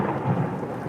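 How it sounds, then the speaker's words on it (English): Thunder rumbles through heavy rain as a sound effect, a loud, dense low roar swelling briefly over a constant wash of rainfall, with no voices. "Lightning cracked overhead."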